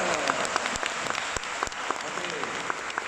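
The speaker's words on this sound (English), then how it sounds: "can we give a round of applause for Darren?" An audience at an architecture photography talk in Singapore gives a round of applause, dense and steady with individual sharp claps popping out nearby, some voices murmuring underneath.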